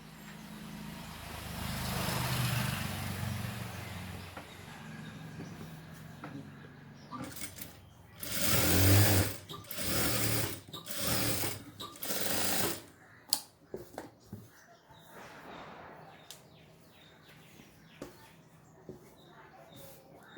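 A sewing machine stitches the curved seams of a pair of shorts in a tailoring class, running in a few short bursts with pauses between and handling noises around them.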